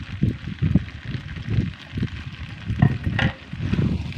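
Fried egg pieces are stirred into pasta in a pan. A soft sizzle runs under repeated scraping and stirring strokes that come in uneven bursts.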